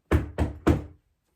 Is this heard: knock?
yes